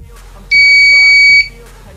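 A homemade proximity sensor's buzzer, triggered by a hand blocking it, emits one loud, steady electronic beep lasting nearly a second before cutting off, with quiet background noise around it.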